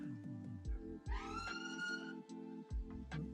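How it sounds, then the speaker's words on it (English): An emergency vehicle's siren on a main road rises in a faint wail, heard distantly behind other low, repeating engine-like tones. "Sorry, I live on a main road. I get about 20-25 sirens go past me a day."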